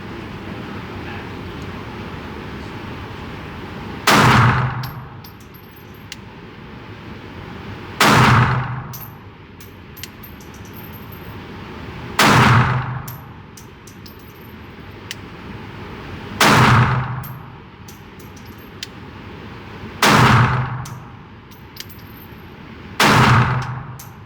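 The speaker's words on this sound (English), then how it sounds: "First shots with the Walther" Six single gunshots from a Walther PD380 pistol firing 92-grain .380 Auto at about seven to eight yards, evenly spaced roughly four seconds apart, sharp and loud against a steady outdoor background hum.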